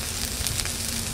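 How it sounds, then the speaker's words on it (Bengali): A paste of ground onion, cumin and chili with tomato, salt and turmeric fries in a pan, giving a soft continuous crackling sizzle, close and fairly quiet. "মশলাটা ভাজা ভাজা হয়ে গেছে"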